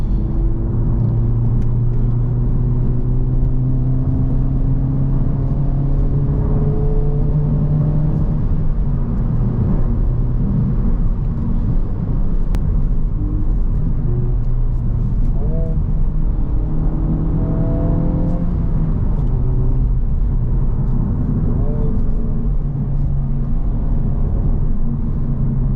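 A 2024 Honda Civic Type R (FL5), front-wheel drive, drives steadily along a road, its engine humming and tires rumbling loudly and continuously, with gear shifts rising and falling in pitch.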